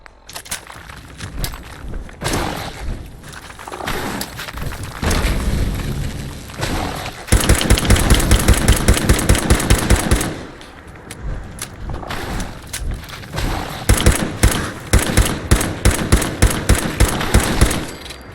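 Rapid gunfire bursts in the video game Fallout 4, loud and close, with repeated sharp shots clustered around the middle and end among footsteps and thuds.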